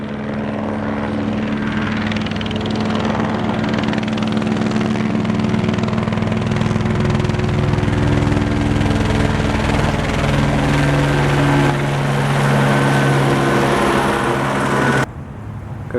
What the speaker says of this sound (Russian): как обычно, над домом летает вертолет